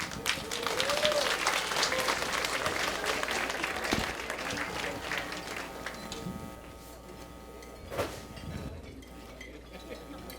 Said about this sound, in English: you may give her another big round of applause